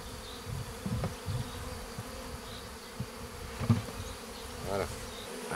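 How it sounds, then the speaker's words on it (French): Honeybees buzz steadily throughout, a dense droning hum close by at a hive as a swarm enters, with a few louder passes as individual bees fly near. "il y ait des abeilles à l'intérieur, elles entendent bourdonner"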